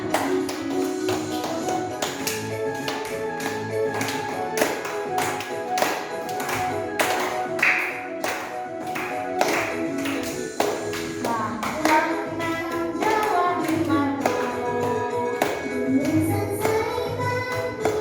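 Children clap their hands in a steady rhythm while singing a song together with music, the taps sharp and continuous throughout.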